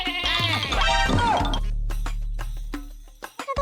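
A cartoon goat bleats in a long, wavering, quavering cry lasting over a second, followed by lingering low tones and a few faint clicks.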